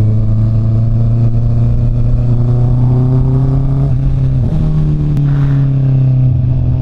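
A Honda CB650R motorcycle engine drones loud and steady while riding, holding an even note that dips briefly as the revs shift, heard up close with no talking.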